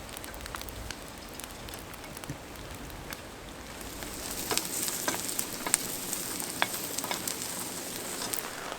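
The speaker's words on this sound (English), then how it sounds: "I'm removing the meat for now so I can sauté the mushrooms." Mushrooms sautéing in a pan at a rainy riverside campsite, a faint, soft sizzle with scattered crackles and pops.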